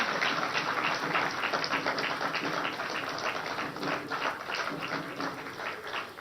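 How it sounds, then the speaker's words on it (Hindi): Crowd applause at a Madhya Pradesh Jan Samvad political rally, steady, dense clapping from a large audience that continues without a break and stays even in level. "तालियां तो जोरदार बजते रहनी चाहिए"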